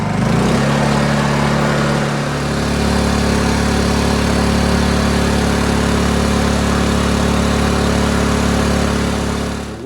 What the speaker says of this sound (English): I'm going to fire up the little Honda generator